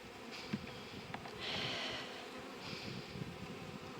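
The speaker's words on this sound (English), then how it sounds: "there is a lot of bees on here" Honey bees drone softly around an opened hive in spring, a faint buzz that swells for a moment before settling back into quiet ambience.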